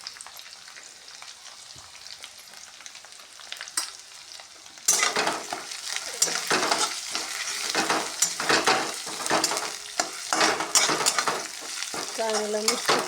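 Eggplant curry with coconut is stir-fried in hot oil. A quiet start gives way to loud, steady sizzling with repeated scraping stirs of a spoon against the pan, heard close up.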